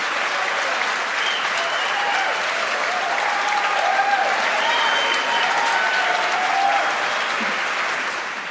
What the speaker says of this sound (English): The crowd cheers here.